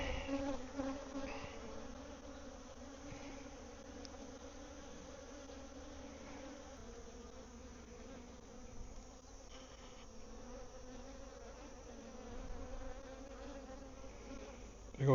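Honeybees hum steadily around the hives in a bee yard, a dense, even drone that carries through the whole stretch with no talking.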